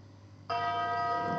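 A song plays from a mobile phone through amplifier speakers, starting abruptly after a quiet hiss and holding steady with sustained tonal notes at moderate loudness.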